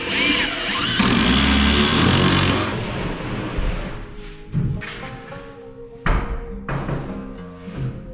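A power drill drives center screws into wood while building a loft in a box barn: a loud continuous whir at first, then several shorter bursts separated by knocks and thumps.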